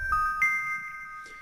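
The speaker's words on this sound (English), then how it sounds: "The only variation I did was I took the bells, put them up 1 octave." Bell tones pitched up one octave inside a rustic violin sample, a few bright chiming notes that ring out over a low bed and sustain steadily in a short loop.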